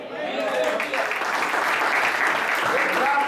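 Church congregation applauding and clapping for God during an evening Spanish-language service, a dense, steady wall of hand claps filling the room, loud and sustained throughout with some voices mixed in.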